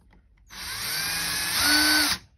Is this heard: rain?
no